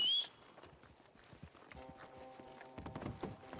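Horse hooves clip-clopping at a walk, a series of light irregular knocks close by, with faint background tones and no clear talk.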